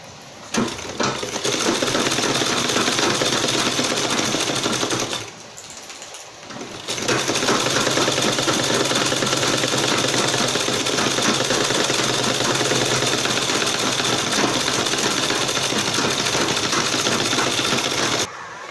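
A sewing machine stitching fabric for a dog dress, running as a loud, steady, rapid mechanical whir that stays close and continuous, with one brief pause near the middle before it starts again, and no talking.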